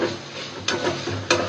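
Loitta dried fish frying and being stirred in a pan, a steady close sizzle with two sharp scrapes of the spoon against the pan.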